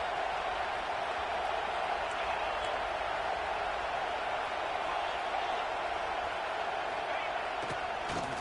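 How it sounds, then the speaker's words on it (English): Football stadium crowd at a Coastal Carolina college game roars in a steady, dense wash of cheering and noise, loud and continuous throughout as fans try to rattle the offense near the goal line. "the crowd really making some noise now, trying to help out this defense"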